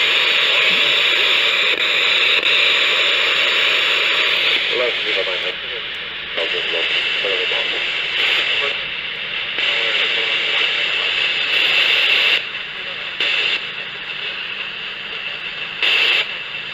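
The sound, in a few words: radio receiver static with the squelch open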